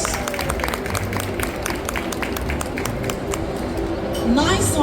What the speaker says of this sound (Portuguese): Peço uma salva de palmas para recebê-los.